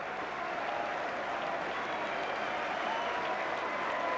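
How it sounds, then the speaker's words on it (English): Steady applause from rugby league supporters in the stands at Headingley during a Challenge Cup quarter-final, a continuous dense clapping from a large crowd with no talk over it. "the Workington Town players, despite their heavy defeat, applaud their supporters behind the post"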